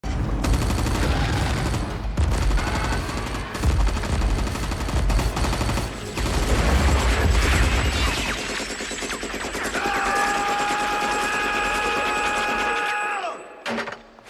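Gunfire in a Stranger Things action scene, dense bursts of rapid automatic shots and booms up close, then a tonal musical swell before an abrupt stop.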